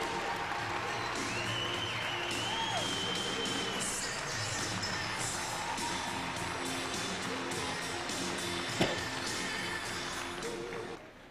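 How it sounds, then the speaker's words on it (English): Applause and crowd noise from a large audience at a live stage show, a broad steady wash of clapping with some cheering mixed with musical tones, heard from a distance and fading near the end. "Big round of applause."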